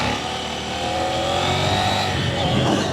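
A KTM 790 Duke motorcycle engine roaring loud and close during a first-gear wheelie, holding a strained high rev that climbs steadily with no break.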